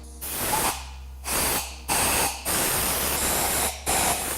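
Compressed air blasting dust out of a drilled hole in a solid concrete wall, heard as five loud hissing bursts of varying length separated by short silent gaps, up close with no talk.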